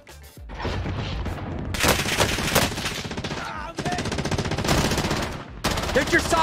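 Gunfire in the Call of Duty Warzone video game, loud dense bursts of automatic fire with sharp shots, nearly continuous with brief gaps, some voice mixed in.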